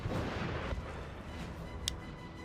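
Cannon bombardment in Napoleon: Total War, a game battle in the Papal States campaign, with dense rumbling artillery fire and a sharp crack near the end, sustained and loud without speech.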